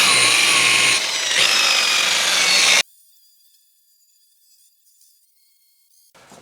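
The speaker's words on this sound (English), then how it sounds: "But for now, let's buff this." A loud power buffer whirs against boat gelcoat for about three seconds, then cuts off abruptly, leaving near silence with faint clicks.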